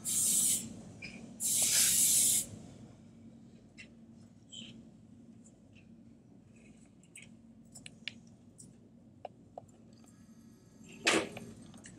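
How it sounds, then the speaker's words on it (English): Hairspray hissing onto hair that has been combed upward, in two loud, close aerosol bursts of about a second each. Faint clicks and handling sounds follow, with one more sharp sound near the end. "I hit it with my hairspray."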